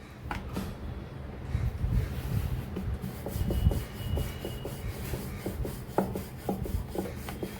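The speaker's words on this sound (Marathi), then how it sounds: "सुकं पीठ लावत लावत लाटून घ्यायचं" A rolling pin rubs back and forth over methi paratha dough made with grated onion and dusted with dry flour, producing soft rhythmic scraping and light knocks close by, with no talking.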